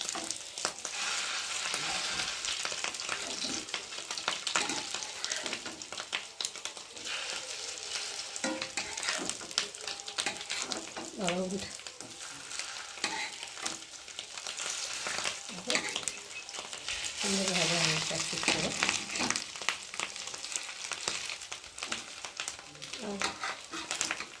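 Fish roe fries in a pan with a dense, continuous sizzle and crackle, interrupted now and then by stirring and scraping, while a voice speaks intermittently over the cooking.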